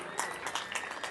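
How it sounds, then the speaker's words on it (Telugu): A crowd at a stadium event in Gudivada applauds the stadium committee, a steady wash of distant hand clapping with a few louder bursts, fairly faint overall and with no voices over it. "ఈ స్టేడియం కమిటీ వారికి ఒకసారి చప్పట్లు కొడదాం."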